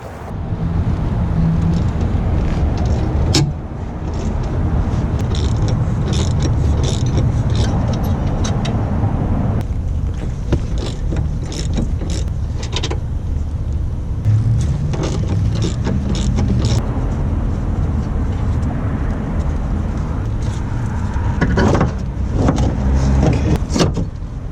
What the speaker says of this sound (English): I'm gonna start with removing these 3 bolts.